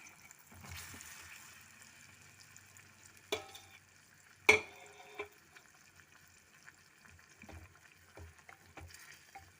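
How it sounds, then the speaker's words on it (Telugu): Cubes of homemade paneer go into a spinach curry simmering in a pan and are stirred through. A few scrapes and clacks of a spoon sound over a faint, quiet sizzle. "ఇప్పుడు పన్నీర్ వేస్తున్నాను"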